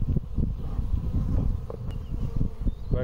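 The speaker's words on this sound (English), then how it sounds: "My God, there are so many of them around my head right now. It feels like I'm inside the beehive." A swarm of bees buzzing close around a person's head outdoors near a garden and pheasant aviary, a dense, continuous low hum with wingbeats rising and falling as insects dart past the microphone.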